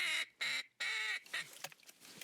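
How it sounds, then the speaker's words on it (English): Ducks quack loudly and close by in an Alaska marsh, several bursts of nasal calls in quick succession followed by softer scattered calls. "Birds."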